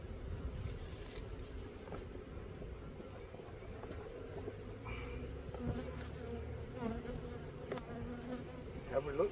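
A steady, dense buzz of many honeybees around a hive close by, continuous and fairly quiet throughout.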